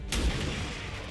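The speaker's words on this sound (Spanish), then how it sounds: "Mi primera opción va a ser intentar acertar este disparo de casualidad." A single loud gunshot fired in the video game XCOM 2 (Long War 2), a sharp blast followed by a rumbling, fading tail, with no voices.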